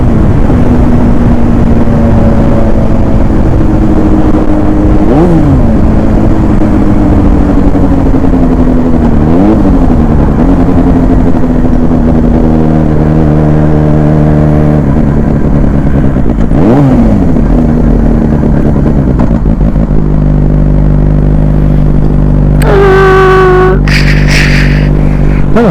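A motorcycle engine on a ride to Kansas hums loud and close and keeps running the whole time. Its pitch dips and climbs with several gear changes and throttle shifts, and near the end a short higher whine, likely from another vehicle, cuts through.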